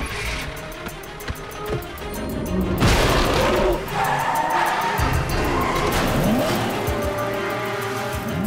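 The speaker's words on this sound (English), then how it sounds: "Start the truck!" A truck in the animated G.I. Joe Renegades fires up after a quiet, low rumble, then roars off loudly with squealing tires and revving that carries on for several seconds.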